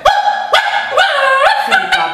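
Security dog barking at a gate in a series of loud, close barks, about five sharp yips spread across two seconds with short whines between them.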